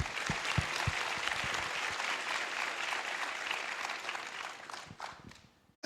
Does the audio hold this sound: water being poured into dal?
no